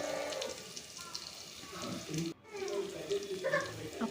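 Onions and green chillies sizzle quietly in a pan for egg soup, a soft steady crackle with a brief stir partway through, faint and close.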